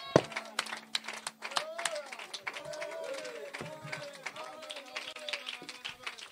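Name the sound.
congregation clapping in applause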